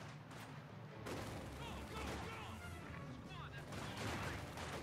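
Sustained battlefield gunfire in Company of Heroes 2, including machine gun fire, crackles in dense bursts with booms, loud and continuous, with a voice talking faintly underneath.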